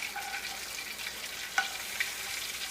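Mushrooms sizzle in a sauté pan, a steady soft frying hiss broken by a couple of light utensil taps, with no one talking.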